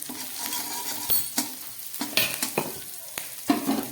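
Ginger, garlic and green chilli fry in a pan as half a spoon of cumin powder goes in, a hissing sizzle broken by sharp scraping stirs and spatula knocks against the pan.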